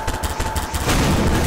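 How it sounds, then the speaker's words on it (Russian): Gunfire in the Garry's Mod sandbox game sounds as a loud, dense burst of shots that swells into a heavier, sustained blast toward the end, with no talking. "Один выстрел делай, просто посмотри, что будет."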